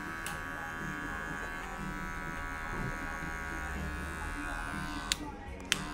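Electric hair clippers at a 1.5 guard run steadily while fading a beard upward into the hairline, a continuous close buzz lasting throughout, with a couple of brief clicks near the end.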